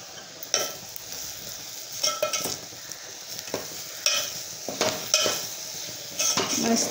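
Soybean chunk dry curry stirred in a pan, a steady sizzle with repeated metal spoon scrapes and clinks against the pan at an irregular pace, close by.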